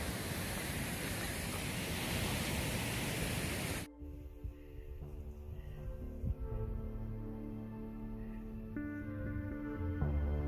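Waterfalls along a rainy backpacking trail in the Goat Rocks rush as a dense, steady roar for about four seconds before cutting off abruptly to quiet.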